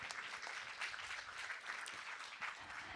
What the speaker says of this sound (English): round of applause for Nicola, please.